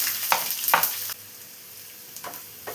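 Chopped onion frying in hot oil with mustard seeds and curry leaves for Kerala-style kadala curry, a crackling sizzle with a few sharp spatters and stirring scrapes near the start and end.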